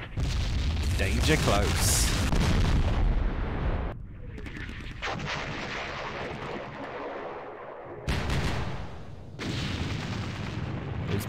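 Artillery fire in the Vietnam war game Campaign Series Vietnam, with repeated loud booming blasts and rumbling impacts, broken by short pauses, while someone talks over the barrage.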